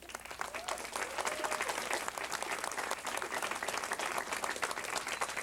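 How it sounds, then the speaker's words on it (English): A round of applause fills a city council meeting chamber, steady dense clapping from many people throughout, fairly close and loud, with no speech over it. "Let's give them a round of applause."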